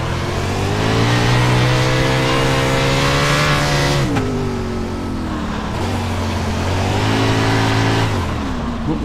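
A USAC race car in the iRacing sim screams loud and close as its engine revs climb repeatedly, with sharp drops at each gear change before the pitch rises again.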